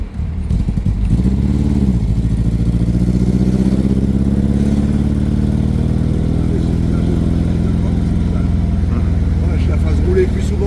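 A Triumph TR3 roadster engine runs close by with a loud, steady idle. It gives a throaty, lumpy burble with a brief rev near the start, and some faint talk underneath.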